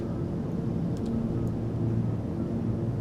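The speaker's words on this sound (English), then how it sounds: "You can hear the wind note change as the aircraft's shape changes in the wind" Steady broadband wind rush over a Cessna 310R twin in flight in Microsoft Flight Simulator 2020, a soft airy hiss with a low engine drone beneath, changing only slightly in tone.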